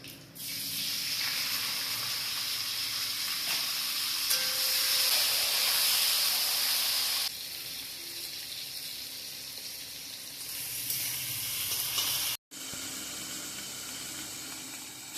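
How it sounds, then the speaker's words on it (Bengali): Cumin seeds tempering in hot oil for a yogurt katla fish curry, a loud steady hiss and sizzle that holds for several seconds, eases slightly, then cuts out briefly before resuming. "জিরা ফোড়ন এখন দিয়ে দিলে ওটা ভাজবো"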